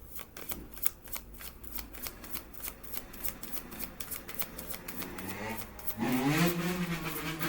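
A deck of cards is shuffled close up, a rapid rippling flutter of many riffled cards over several seconds, ending in a denser, louder final bridge of cards.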